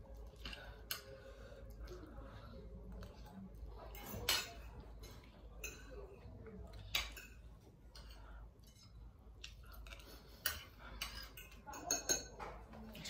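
Spoon clinking against a bowl during a spicy noodle mukbang, with a handful of sharp, close metallic clicks and taps scattered over a low, steady background.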